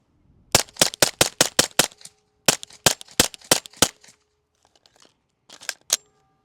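A Glock 17 pistol fired through a B&T rifle suppressor: a rapid string of about a dozen sharp, quiet pops in two quick bursts, then a few scattered shots, close and clean with silence between.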